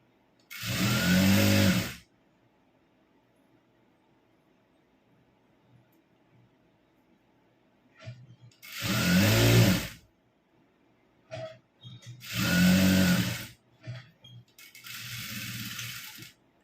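A sewing machine stitches a gathered pant in four short runs, each a second or two of close mechanical whirring, separated by quiet pauses with faint handling noises.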